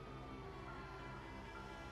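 A police car siren in a Grand Theft Auto video game wails continuously over engine hum, steady and fairly quiet, with a synthetic, game-like quality.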